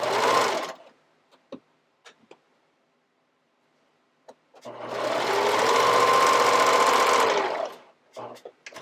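A sewing machine bastes fabric pieces for kids' underwear, running in two short bursts: a brief whir at the start and a steady, close run of about three seconds later, with faint clicks and handling noises between.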